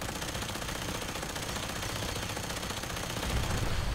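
Rapid, continuous machine-gun fire in the video game Fallout 4, a dense unbroken stream of loud shots lasting the whole stretch, with no talk over it.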